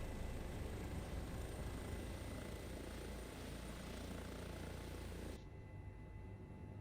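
An Airbus firefighting helicopter in Microsoft Flight Simulator drones steadily with a loud, dense rotor and turbine roar that drops off sharply near the end, leaving a quieter hum.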